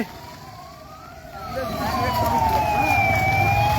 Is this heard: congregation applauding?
no